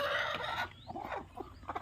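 A brooding country hen sitting on eggs gives a few short, low clucks and murmurs nearby after a brief burst of louder noise.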